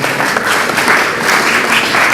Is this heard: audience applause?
yes